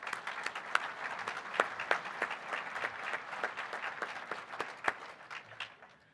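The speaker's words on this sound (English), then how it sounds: "would you join me in giving all of those folks a big round of applause?" Sustained applause from a convention audience, dense and steady for about six seconds, with a few sharper individual claps standing out. No one speaks over it.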